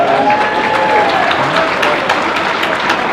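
Applause for a cupcake maker at a Standard-format card game tournament, a continuous loud wash of clapping from a crowd with faint voices mixed in.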